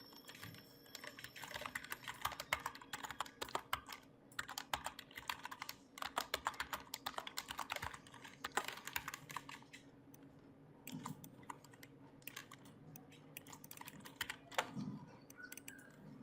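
Steady, rapid typing on a computer keyboard while editing in Adobe Photoshop, dense clicking keystrokes close up for the whole stretch with brief pauses and no talk.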